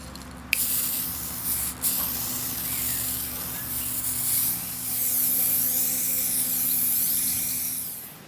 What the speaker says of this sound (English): I've given it a good shake, so I'm ready to spray.